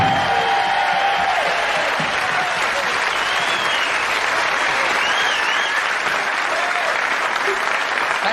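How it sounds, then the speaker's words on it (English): A studio audience applauds and cheers loudly for host Terry Wogan as he is introduced on a television game show, with steady dense clapping and a few whoops rising through it. "How anyone can get such applause and still stay as nice as me, I don't know."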